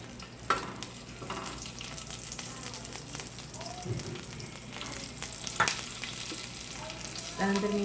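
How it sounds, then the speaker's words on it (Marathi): Green chilies roast in a pan with a soft, steady sizzle and crackle, faint and close, with occasional light clinks. "हिरवी मिरची पण भाजून घ्यायची चांगली."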